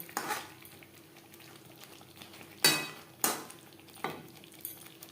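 A spoon scrapes and stirs pointed gourd (potol) with spice masala in a pan, giving a few sharp metallic clinks and scrapes spaced over several seconds, close and fairly quiet with no talking.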